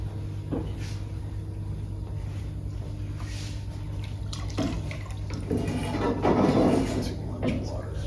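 A tap runs water in a steady, moderate stream, swelling louder near the end, with faint clatter from an art workspace and no clear speech.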